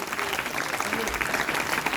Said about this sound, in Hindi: तो एक बार जोरदार तालियों से एक बार पूरी टीम का स्वागत